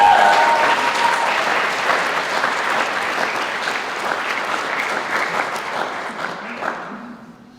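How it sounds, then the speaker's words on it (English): Loud sustained applause from an audience at an Indigenous student graduation ceremony, a dense clapping roar that holds for several seconds before tapering off at the end. "Round of applause."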